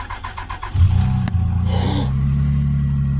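A custom-built car engine fires up for the first time: a crank and catch, then a steady low idle that settles in, loud and close, with no voices over it.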